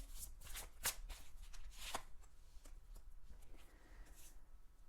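Tarot cards being shuffled in a series of crisp riffling bursts, close up and fairly quiet, with soft handling noises between.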